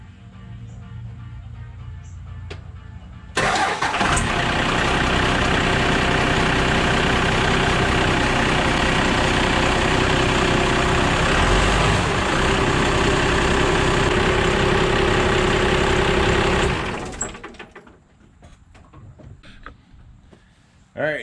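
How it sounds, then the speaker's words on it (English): A 1997 Dodge truck engine cold starts after a short crank, then settles into a loud steady idle for about thirteen seconds before shutting off, with quiet background sounds before and after. "I wanted to show you a cold start and let you know exactly how much better it works."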